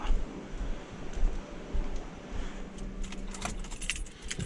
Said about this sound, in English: I'm gonna go ahead and turn off the ignition on this one